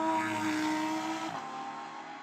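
A Lamborghini Huracan launches in a drag race, its engine roaring with a rising, strained note before a sudden drop and shift, fairly distant and muffled as if heard from inside the cabin.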